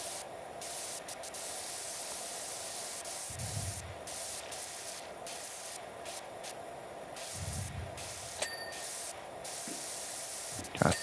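Pressure washer hissing in PowerWash Simulator 2, a steady loud spray broken by short pauses and resuming, close and continuous with no talking.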